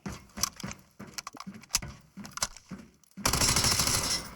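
Rapid rifle shots ring out in the shooter game Delta Force during a drop-shot maneuver, a string of sharp close cracks in an uneven rhythm, followed by a sudden loud, dense burst of sustained noise.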